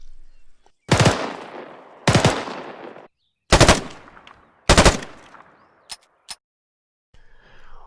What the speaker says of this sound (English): When firing, your rifle heats up, which can cause your rifle to jam.